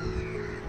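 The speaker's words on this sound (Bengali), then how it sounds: "পাখির শুধু চেঁচামেচি শুনতে পাচ্ছেন।" Harsh cawing calls of crows over a steady outdoor background at a deserted seaside area in Mandarmoni on a cloudy morning, brief and fairly close, with no talking.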